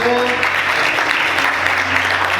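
A church congregation breaks into sustained, loud applause that fills the room evenly, with a voice carrying over the clapping.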